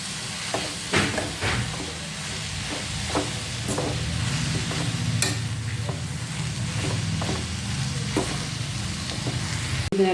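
Rajgira (amaranth) palya frying on a low flame, a steady soft sizzle with repeated scraping stirring strokes of a spatula in the pan, close and continuous, with no talk.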